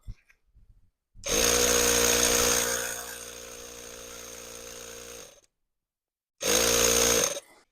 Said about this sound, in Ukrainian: підключаємо компресор, вмикаємо